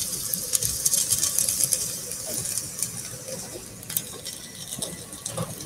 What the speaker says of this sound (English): I'm like putting the mic on the sizzle.